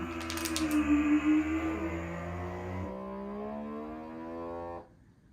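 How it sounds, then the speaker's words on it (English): A Bosenkitchen VS4100 vacuum sealer hums steadily with a rising and shifting motor pitch, then cuts off abruptly near the end. "vacuum seal."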